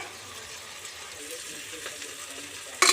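Tomatoes and spices fry in a pan for boti biryani, giving a soft, steady sizzle close by, ended by a brief louder scrape or clatter of stirring.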